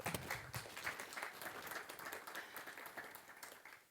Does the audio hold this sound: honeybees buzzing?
no